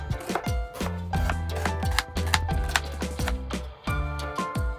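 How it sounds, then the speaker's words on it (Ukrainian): Rapid, steady knife strokes thud on a cutting board, slicing onion into half rings, close and crisp, with repeated chopping beats and no voices. "Далі ми нарізаємо нашу цибулю навпіл та ріжемо полукільцями."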